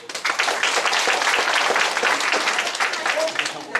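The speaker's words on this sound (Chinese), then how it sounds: "那边拍手" Dense applause from an audience at a political law-school lecture in Taiwan, a steady roar of many hands clapping throughout, loud and continuous with no break.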